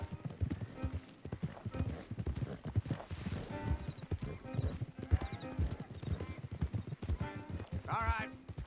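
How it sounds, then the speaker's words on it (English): Horse hooves clop steadily on the ground in Red Dead Redemption 2, with whinnies and character voices talking over the rhythmic footfalls throughout. "Don't want the horses clopping around outside the window."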